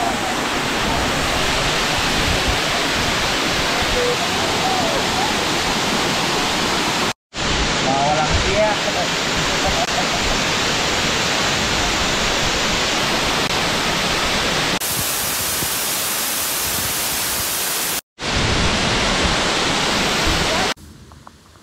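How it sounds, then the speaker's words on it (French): A waterfall at Ubud, Bali roars as a steady, loud broadband rush that fills the whole scene, with a few abrupt cuts and level jumps along the way. "On était du coup à la cascade"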